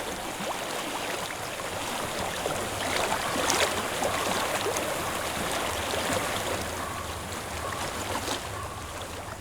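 Stream water flows steadily in Hellblade: Senua's Sacrifice, a continuous rushing wash that swells slightly midway and carries on alone without voices.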